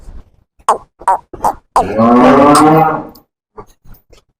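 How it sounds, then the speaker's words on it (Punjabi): A Nili-Ravi buffalo lets out one loud, close, drawn-out bellow, framed by scattered knocks and shuffling sounds before and after. "ਨੀਲੀ ਰਾਵੀ ਦੇ ਵਿੱਚ ਪਿਓਰ ਤੁਹਾਨੂੰ ਅੱਜ ਮੱਝ ਦਿਖਾ ਰਹੇ ਆਂਗੇ"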